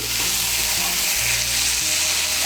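Ridge gourd pieces frying with spices over high heat, a loud dense sizzle that stays even throughout, with a low steady hum beneath it and no voices.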